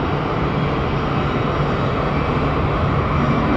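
A jet airliner at Atlanta Hartsfield airport accelerates down the runway, its loud, steady engine roar filling the clip without a break and with no voices.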